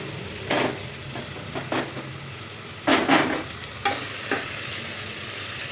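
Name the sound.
gongura leaves frying and stirred in a pan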